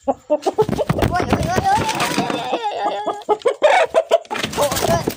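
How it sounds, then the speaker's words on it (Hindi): A Java rooster clucks and squawks agitatedly up close while being held, with rapid, choppy calls and flapping, mixed with someone talking. "जावा मुर्गा मैंने पकड़ लिया, ये रहा"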